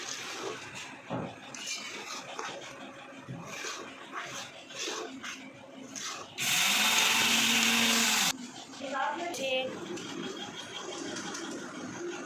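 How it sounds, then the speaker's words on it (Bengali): A loud grinder whirs for about two seconds, grinding roasted sesame and fried rice, starting and stopping abruptly, amid quieter kitchen clatter and stirring before and after. "এখন আমরা তিল আর চাল ভাজা গুঁড়া করে নিব হালকা।"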